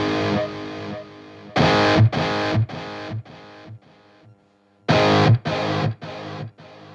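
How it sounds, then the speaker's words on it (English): Heavily distorted electric guitar chords through a UAFX Lion '68 Super Lead pedal and Starlight Echo Station delay strike in bursts, each ringing and repeating with fading, distorting delay echoes, played alone and loud. "Did you hear that the delay started to distort?"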